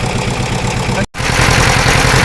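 A tractor engine runs steadily on the way into the forest after rain, a loud, close, continuous low rumble with a brief dropout near the middle.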